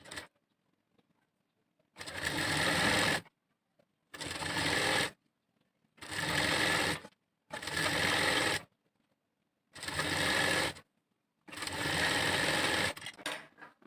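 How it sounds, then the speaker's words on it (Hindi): Sewing machine stitching a 3-inch fabric strip folded double for a blouse, running in six loud, steady bursts of about a second each, separated by short silent pauses. "ऐसे डबल फोल्ड करके एक सिलाई लगा देंगे।"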